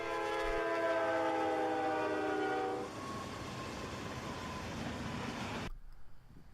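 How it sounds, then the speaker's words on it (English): Amtrak's northbound Crescent, passenger train number 20, on a Norfolk Southern main line at Control Point Briar in East Central Mississippi, sounds a loud sustained horn blast over rumbling wheels, then thunders past up close before cutting off abruptly. "The day begins as we catch the Crescent, Amtrak's northbound train number 20 at Control Point Briar."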